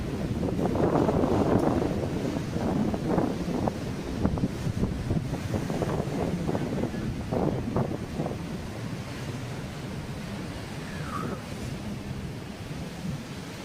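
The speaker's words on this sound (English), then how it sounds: "A little bit windy today." Steady wind buffets the microphone on Chaweng Beach, Koh Samui, blending with a continuous roar of surf and big waves, loud and unbroken throughout with brief faint voices in the background.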